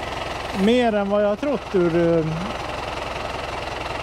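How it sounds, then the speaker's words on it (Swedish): A Valmet 900 tractor engine, leaking at the power steering cylinder, runs at a steady idle with an even, rapid low thumping throughout; someone talks over it. "så drog jag igång traktorn här"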